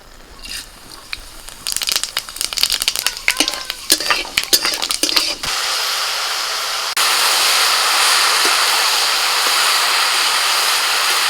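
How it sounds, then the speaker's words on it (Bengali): Dried red chili and panch phoron crackle and sizzle in hot oil, opening with a burst of sharp pops and spatters that gives way to a steady, loud hiss. "ফোড়নে দিচ্ছি একটা শুকনো লঙ্কা আর পাঁচ ফোড়ন"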